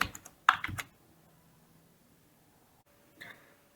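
Keys tapped on a computer keyboard while code is written for a Selenium data-driven test script, a short burst of clicks at the start, then quiet before a brief second flurry.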